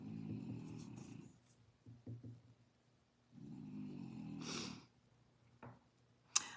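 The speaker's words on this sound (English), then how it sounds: "he snores so loud." Loud snoring from a man, two long rasping low breaths with a shorter burst between, followed by a sharp snort near the end, heard alone with no talking.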